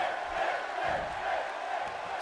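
Crowd noise from a WWE 2K18 wrestling video game, a dense roar of cheering and shouting that swells and dips steadily at moderate loudness.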